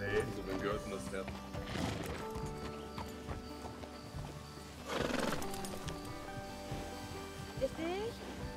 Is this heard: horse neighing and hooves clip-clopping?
yes